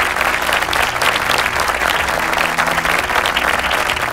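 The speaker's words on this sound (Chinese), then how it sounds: "掌声有请" Loud, dense applause from a large audience welcomes the judges at a national secondary-school Chinese drama competition, a continuous roar of clapping with a faint crowd murmur underneath.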